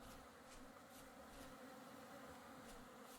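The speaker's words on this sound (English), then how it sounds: "The bees are still flying around" Bees buzz steadily and quietly in a continuous drone in the video game Vintage Story, with a few sharper passes flitting by; no one speaks.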